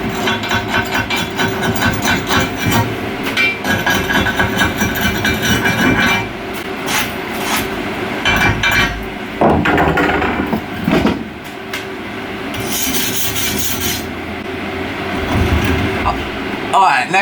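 Sharp metallic chipping as welding slag is knocked off a stick weld, with repeated close hits and scraping over a noisy background, and a voice speaks briefly.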